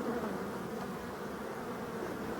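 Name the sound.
honey bees buzzing at the hive in October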